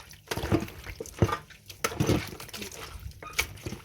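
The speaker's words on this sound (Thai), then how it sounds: "เทใส่เลย ใส่ทั้งข้าวทั้งน้ำไปเลย เทใส่" Cooked rice and water are poured into a container for fermenting pickled garlic greens, giving irregular close splashes and gurgling pours in several bursts.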